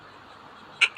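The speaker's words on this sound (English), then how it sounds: "This is a duck. And the duck sound is." A duck quacks twice in quick succession near the end, two short loud calls standing out clearly over a faint, low background hum.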